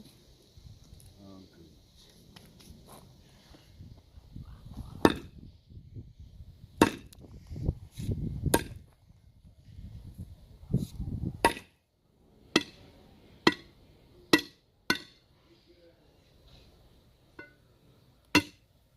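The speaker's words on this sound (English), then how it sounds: "We need to come back with a bigger hammer." Sharp metallic hammer strikes ring out one at a time at irregular intervals, some loud and close, with low clattering and muffled talk between blows.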